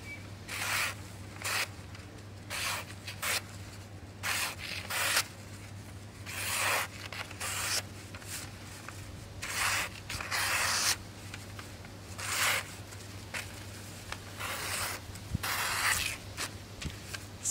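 A Fox Knives Combat Jungle knife slicing through newspaper, a series of short, crisp rasping cuts that come in quick bursts and pauses, close to the mic over a steady low background hum.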